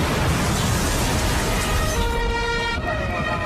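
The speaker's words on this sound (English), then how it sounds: "A massive explosion ripped open the highway." A massive blast from a half-ton bomb hidden under a highway, a loud roaring rumble filling the low end, followed by sirens wailing as emergency vehicles approach.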